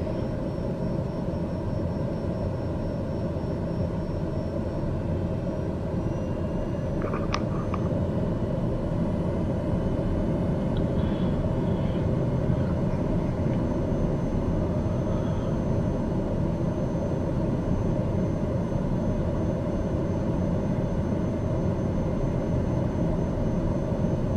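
Airliner on final landing approach to Quad City International in Microsoft Flight Simulator, a steady low engine drone with a faint high whine that holds level throughout, heard alone with no voices.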